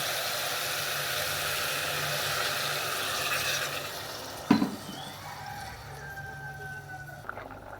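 Oil-fried vegetable stalks and potatoes sizzle steadily, then water is poured in with a sharp splash and hiss, and the frying noise quiets to a softer bubbling.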